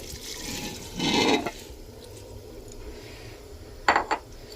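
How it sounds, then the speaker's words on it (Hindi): Soaked lentils and rice tipped into a cooking pot of vegetables in a home kitchen: a short wet pouring rush and splash, then a pause and a couple of quick metallic scrapes of a utensil against the pot. "तो अब इसमें डाल दूंगी दाल जो मैंने भिगो कर रखी हुई थी और साथ ही में डाल दूंगी चावल।"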